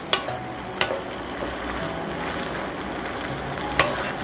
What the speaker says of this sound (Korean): 이거를 고추 먼저 볶아줍니다.